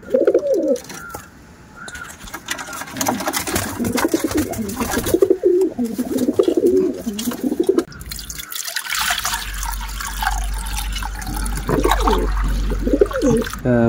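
Caged pigeons flutter their wings and coo up close, with bursts of flapping and soft cooing mixed with a dripping, watery noise over about fourteen seconds.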